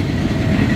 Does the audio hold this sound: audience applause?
no